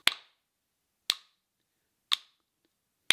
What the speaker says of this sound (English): So you would be clapping quarter notes.